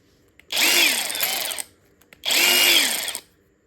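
A Sealey 1/2-inch brushless cordless ratchet whirs in two bursts of just over a second each, separated by a short pause, with a high mechanical whine and quick stops when the trigger is released.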